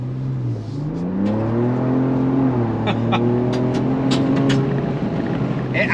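A 2025 Ford Ranger Raptor pickup's engine revs and climbs steadily while accelerating over a very bumpy road, a loud continuous drone rising and settling in pitch, with a few sharp knocks and rattles from the rough surface.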